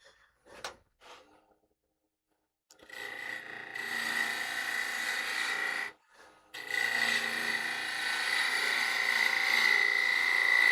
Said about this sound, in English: I will just use our bowl gouge to round that over.